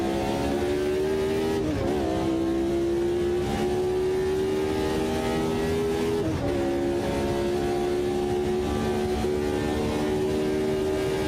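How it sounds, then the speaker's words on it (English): A 1970 Brabham BT44 race car engine at Spa in Automobilista 2 drones loudly and steadily, with pitch dips at gear shifts as another car draws near; no talk over it. "There's a car approaching."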